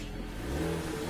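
A 2.3 litre four-cylinder Ford Mustang engine running after starting, with a steady, close, loud mid-pitched hum and slight rising revs.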